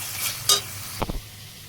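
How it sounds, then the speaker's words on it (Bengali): Spice paste with boiled peas and chickpeas fries for Bengali ghugni, a soft sizzle under a couple of quick, close scraping stirs. "এবার মশলাটাকে ভালো করে কষে নেব।"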